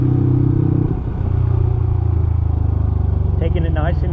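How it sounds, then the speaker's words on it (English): A Honda CT motorcycle engine runs in third gear at an easy, steady pace, its loud close rumble holding throughout while someone talks over it. "We're in third gear here."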